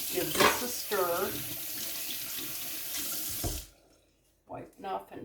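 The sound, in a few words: tap water running in a sink, washing hands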